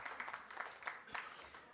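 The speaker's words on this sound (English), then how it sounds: "Big round of applause for Russell." Scattered applause rises for a speaker at an investment and trade conference hall session, a thin, uneven patter of clapping that sounds fairly quiet and somewhat distant.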